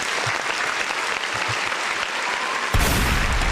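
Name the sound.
round of applause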